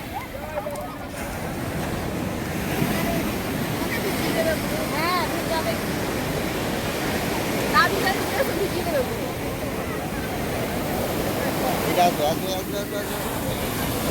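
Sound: sea waves on the beach

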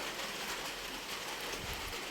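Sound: light rain falling

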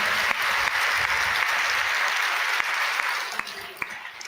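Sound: congregation clapping

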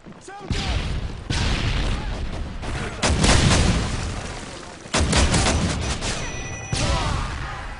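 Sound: Predator missile strike with gunfire, from a video game

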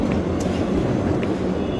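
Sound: train moving in video game Doom 3

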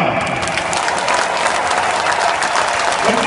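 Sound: stadium crowd applauding a football player's introduction

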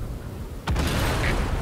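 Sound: tank cannon shot in video game

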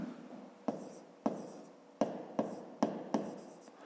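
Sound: writing on paper

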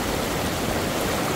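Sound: fast-flowing water stream

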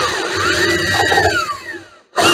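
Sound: power drill drilling 1/8 inch angled hole in fiberglass model boat

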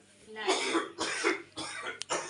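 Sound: man coughing

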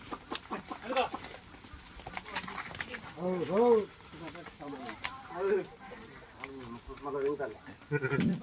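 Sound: sheep bleating

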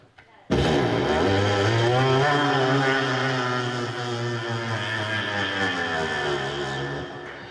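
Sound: voice imitating delivery motorcycle engine

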